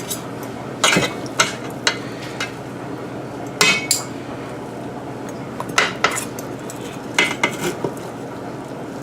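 Chopped pernil meat is spooned out of a pan, with sharp metallic clinks and scrapes of a spoon against cookware in scattered bursts over quiet background noise.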